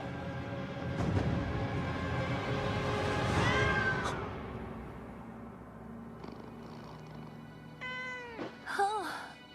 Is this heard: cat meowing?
yes